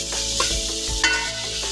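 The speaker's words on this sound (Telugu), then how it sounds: "ఒక 2 మినిట్స్ వరకు ఫ్రై చేసుకోవాలండి." Masala for a fish curry (chepala pulusu) frying in oil while being stirred: a close, dense sizzle with a couple of quick spoon scrapes and thumps over a short stretch.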